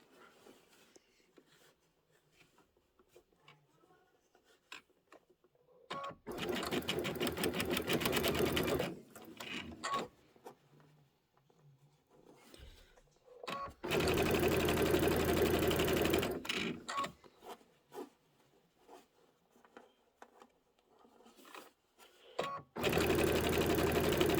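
A serger finishing the back of a quilted pillow runs in three loud sustained bursts of rapid whirring stitching, separated by quieter gaps of fabric handling and faint room noise.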